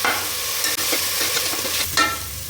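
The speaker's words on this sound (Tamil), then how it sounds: "நல்லா பச்சை மாவு வாசம் போக வரைக்கும் வதக்கலாம்" Ground masala paste is sautéed in a pan for tomato rice, giving a close, bright sizzle with scraping stirs and a couple of sharper clatters of the spoon against the pan.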